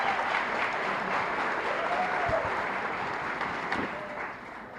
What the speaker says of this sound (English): And please applaud.